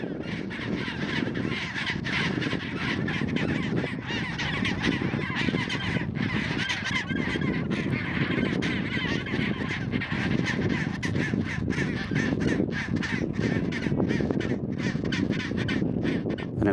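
A dense penguin colony in Antarctica calls continuously, a loud, crowded chorus of overlapping honking, braying cries from many birds close by, with no pause over the whole stretch and no talking.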